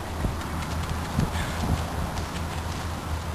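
Hooves of horses being loaded into a horse float after a long break from travel clop steadily and unevenly over a constant background rumble, with a few louder strikes standing out.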